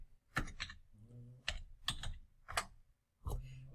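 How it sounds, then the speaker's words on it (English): A handful of quick, light taps on a computer keyboard while a date goes into a Gantt chart template, scattered irregular clicks heard close up but faint, with no voices. "you just type that in into date format"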